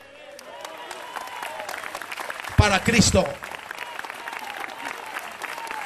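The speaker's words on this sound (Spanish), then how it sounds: "Hay aplauso ahí" A church congregation bursts into a short round of applause during a sermon, rising loud for about a second amid ongoing background noise, with someone speaking briefly over it.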